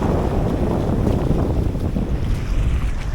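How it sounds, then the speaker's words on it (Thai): Steady wind buffets the microphone at sea aboard a squid fishing boat, a continuous loud roar with water and wave wash underneath and no talking. "ช่วงบ่าย ลมเข้าหน้าครับ"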